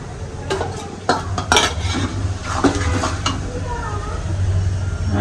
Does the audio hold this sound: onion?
yes